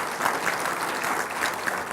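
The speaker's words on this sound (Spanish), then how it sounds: "Vamos a darle un aplauso al Rey de Reyes y Señor de Señores, Jesucristo." Brief burst of dense applause from a church congregation, a continuous crackle of many hands clapping at steady volume.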